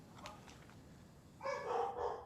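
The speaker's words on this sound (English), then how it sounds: "My dog's barking." A pet dog barks faintly in the background of a home, with a couple of soft distant yips followed by a short burst of quicker barking, still quiet and far off.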